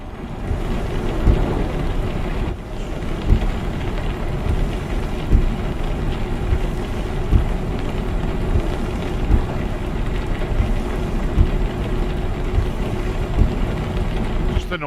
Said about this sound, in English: Just the noise of the rain makes you feel wet.